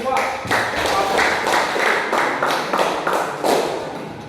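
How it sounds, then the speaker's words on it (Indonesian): A classroom audience claps for a student group after its presentation, a steady patter of many hands lasting a few seconds and fading at the end. "Tepuk tangan untuk kelompok 2"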